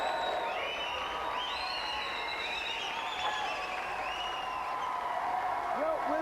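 Studio audience at a TV video-game show applauding and cheering a contest winner, steady dense clapping with whoops and shouts throughout, a presenter's voice talking over the noise.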